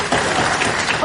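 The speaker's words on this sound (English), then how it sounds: "I'm not saying it for a round of applause" An audience at a recovery convention in London applauds, a brief dense burst of many hands clapping, close and even, filling the whole moment.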